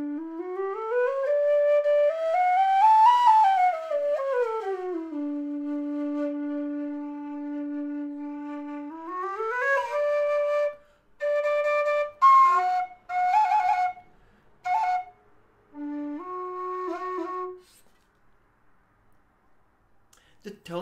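A Tony Dixon TB003D low D whistle plays alone, clear breathy notes sliding up and down the range, starting with long sustained tones and then moving into shorter separated notes and quick phrases.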